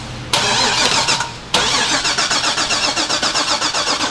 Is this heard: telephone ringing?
no